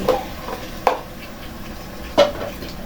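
Vegetables being stirred in a frying pan, a few distinct scraping strokes of the utensil against the pan at intervals, with a faint sizzle underneath and no voices.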